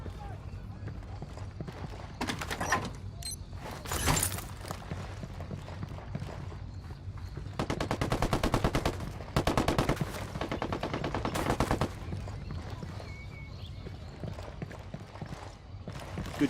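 Bursts of automatic gunfire in Ghost Recon Wildlands, loud near volleys around four, eight to ten and eleven seconds over a steady game ambience, with scattered single shots between.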